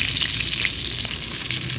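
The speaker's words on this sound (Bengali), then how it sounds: "এখানে মাছ ভাজা হচ্ছে" Fish fries in hot oil in a home kitchen, giving a steady, close sizzle with bright crackling pops throughout and no talking.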